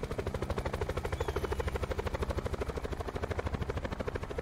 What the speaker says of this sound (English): There's another chopper down there.